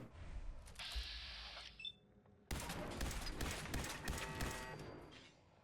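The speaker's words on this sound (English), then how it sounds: "I hear the turrets. There's like turrets mounted coming up." Mounted turrets in Fallout 4 open fire in a dense, sustained burst of rapid shots after a brief gap, loud and close, with no talk over it.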